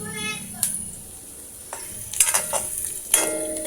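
Garlic and onion sauté in a pan, browning with a soft steady sizzle while a utensil stirs and clinks against the metal in a few sharp scrapes.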